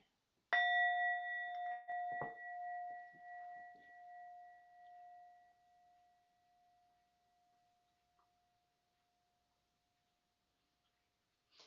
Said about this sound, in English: And with the strike of the bell,